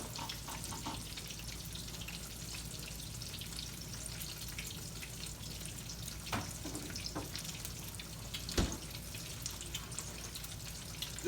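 Pork chops coated in Japanese panko breadcrumbs fry in hot oil, giving a quiet, steady crackling sizzle with a few sharper pops and clicks scattered throughout.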